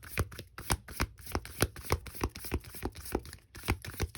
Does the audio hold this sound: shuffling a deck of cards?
yes